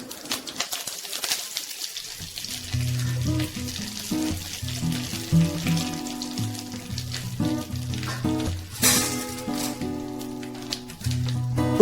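Cumin seeds and curry leaves crackle and sizzle in hot oil for snake gourd kootu, a steady frying hiss with pops, while a soft background melody plays throughout.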